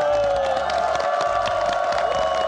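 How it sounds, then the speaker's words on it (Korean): A TV studio audience greets a guest, a former weather forecaster, with loud applause and cheering, whoops and shouts riding over continuous clapping throughout. "큰 박수로 맞아주십시오."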